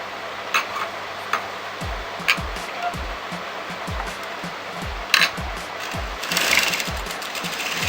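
A sewing machine stitches a boat neck blouse with princess cut in short, repeated bursts, close and moderately loud, over a steady hiss of heavy rain outside.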